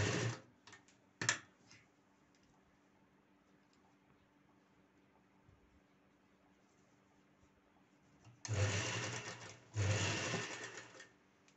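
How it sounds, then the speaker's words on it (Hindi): A sewing machine stitches a double seam on a salwar, a few short clicks at first, then two loud bursts of rapid stitching near the end after a quiet stretch. "यहाँ पे डबल सिलाई लगाते हुए"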